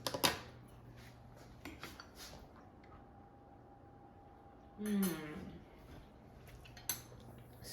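A knife and fork clink and scrape against a plate while slicing Instant Pot braised pork belly, with a few light taps and one short, louder cutting scrape in the middle of a quiet kitchen.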